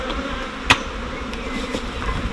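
Honeybees buzzing steadily around an open hive during a colony inspection, a continuous close drone with a brief sharp knock partway through.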